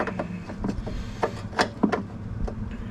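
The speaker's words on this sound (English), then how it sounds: "I gotta get the wrench back on there, of course." Wrench working on a car brake line fitting during a DIY brake line replacement, giving close clicks, scrapes and metallic rubs in short irregular bursts.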